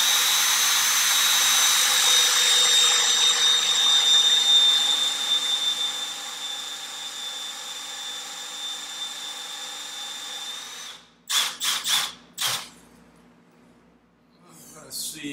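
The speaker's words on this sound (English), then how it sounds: "And drill away." A power drill drilling wood with a stretcher drilling guide whines at high pitch for about ten seconds, then stops, followed by a few short bursts and some handling noise.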